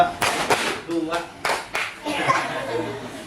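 A classroom group claps in a concentration clapping game, producing several separate bursts of hand claps between spoken instructions, with light chuckling and voices in the room.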